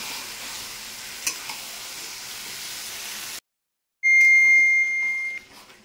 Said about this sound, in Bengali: মাংসটা তুলে দিয়েছি, এবার মাংসটা কষাবো।